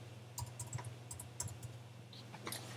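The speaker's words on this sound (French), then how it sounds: "je tape mon texte" Typing on a computer keyboard while adding watermark text in photo editing software, a run of light, irregular key clicks close by over a steady low hum.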